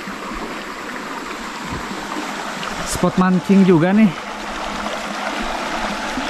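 A very small river, the Cikembang, flows in a rural setting with a steady, soft rushing trickle throughout, while someone speaks briefly over it partway through.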